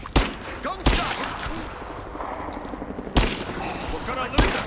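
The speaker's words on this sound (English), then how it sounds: "Gunshot!" Gunfire in the video game Rise of the Tomb Raider, several sharp loud shots spaced irregularly with echoing tails, mixed with voices talking and shouting between them.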